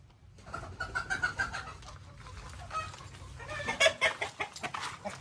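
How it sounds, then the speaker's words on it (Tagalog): Rhode Island chickens, a rooster and two hens, cluck and call close by in repeated bursts with short gaps between them. "ito nga pala yung binili naming Rhode Island na manok"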